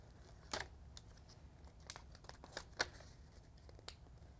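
Transfer paper backing is peeled off a coated matte-finish ceramic tile, producing faint, scattered crinkling and sharp tearing crackles in short bursts over a quiet background.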